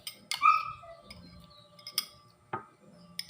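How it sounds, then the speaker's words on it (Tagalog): A dog lets out a high, thin whine near the start, followed by quieter whimpers and scattered clicks and taps in a quiet room. "Naiyak yung aso namin."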